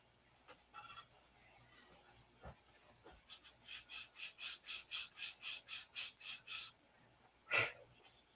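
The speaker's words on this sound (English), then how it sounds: "I guess we'll sand it instead of" A P-47 model nose is sanded with rhythmic, even back-and-forth rasping strokes, about a dozen in a row, close and fairly quiet, framed by a few scattered scrapes and a sharp knock near the end.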